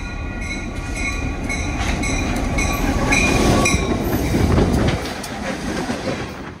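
A freight train rolls steadily past West Medford toward Boston Sand and Gravel Company at night, a loud continuous rumble of wagons with rhythmic wheel clatter and a faint squeal, easing slightly toward the end.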